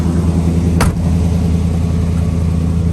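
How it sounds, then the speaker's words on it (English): A 1966 Ford Thunderbird with a 390 V8 and Edelbrock carburetor idling, its exhaust giving a steady low rumble, close and loud, with one brief sharp click or knock near the start. "That's a good exhaust note. That 390 sounds really nice."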